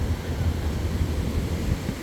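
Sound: ocean waves on a beach

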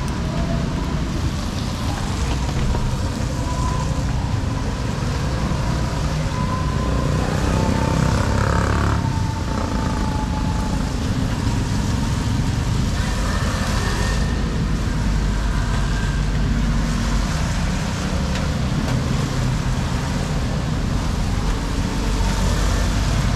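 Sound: motorcycle riding

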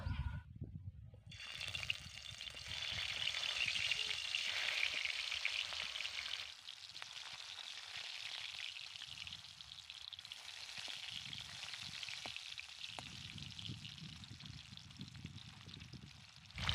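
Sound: fish frying in hot oil

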